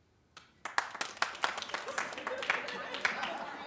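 A studio audience on a daytime talk show breaks into clapping, starting with a few scattered claps and building into steady, dense applause that keeps going to the end.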